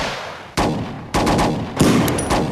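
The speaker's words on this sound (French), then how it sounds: "je crois que c'est des flics sur qui on tire" Gunfire aimed at police in a film: four loud, sharp shots in quick succession, each echoing and decaying into the next.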